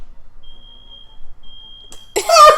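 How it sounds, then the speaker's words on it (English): A thin, high electronic beep sounds twice as a long steady tone with a pause between. Near the end a voice cuts in. "Alarm can't be silenced."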